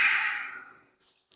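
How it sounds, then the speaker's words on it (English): A long, audible breath out through the nose, close and breathy, fading away, followed by a brief short hiss of air. "and then breathe out to your nose"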